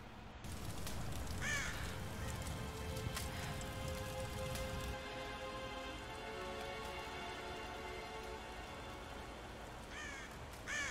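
Steady rain falls in the Tomb Raider video game, a dense broadband hiss that holds constant throughout, with a few crow caws rising over it near the start and again near the end.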